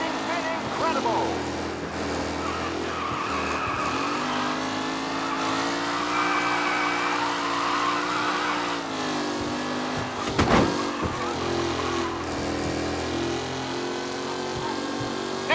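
Race cars roar past and skid in Mafia: Definitive Edition, engines revving and tires squealing in a busy, continuous blur of motor noise, with a commentator talking over the racing.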